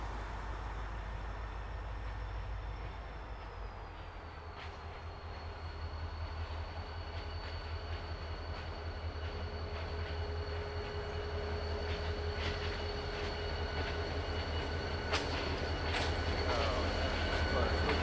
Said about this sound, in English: here comes the train, here comes the light.